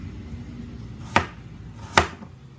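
Two crisp knife chops land on a cutting board while apples are cut into little cubes, each a sharp isolated thunk about a second apart over quiet room noise.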